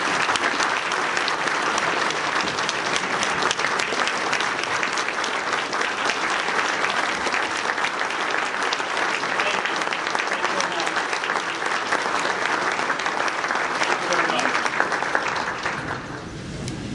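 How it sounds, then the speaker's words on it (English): Audience at a Johnson County Republican Lincoln Day dinner in Indiana applauding a congressman, a long, loud, sustained round of clapping that holds steady and tapers off at the end. "warm round of applause for Congressman Todd."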